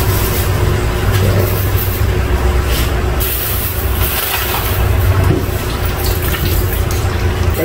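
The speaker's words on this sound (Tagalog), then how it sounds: "ilagay na natin yung pangalawang piga ng gata" Second-press coconut milk is poured into a pot of simmering chicken and squash, a steady, close liquid rush that runs for several seconds without any speech.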